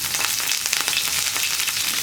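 Curry leaves hitting hot oil after the mustard seeds have popped, tempering for a mango pickle, give a loud, dense, continuous hiss and sizzle with no voices.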